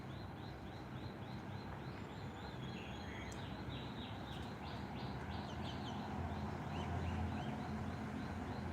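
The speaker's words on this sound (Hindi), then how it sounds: "पक्षियों के मधुर कलरव को सुनते हुए सामूहिक साधना हम कर रहे हैं।" Small birds chirp and tweet steadily outdoors in the open air during a morning group yoga session, repeated high calls layered over a constant low rumble of wind or ambient noise, fairly faint, no talking.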